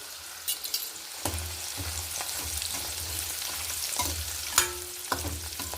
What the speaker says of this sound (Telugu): జీడిపప్పులు వేసి వేయించుకున్నాం అండి నూనెలోనే వేయించుకోవాలి జీడిపప్పులు